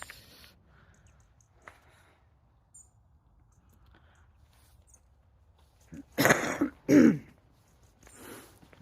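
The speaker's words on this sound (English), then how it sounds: "Sorry, I'm coughing." A person clears their throat and coughs, two or three harsh close bursts following a mostly quiet outdoor stretch on a lakeside walk, with a fainter cough trailing after.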